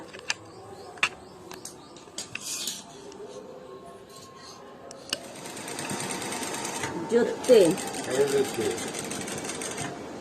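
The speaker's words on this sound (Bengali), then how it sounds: "আমার মা সেলাই করছে" A sewing machine stitching clothes at home runs in a steady, dense whir through the second half, after scattered clicks and handling noises at the start, with voices talking over it.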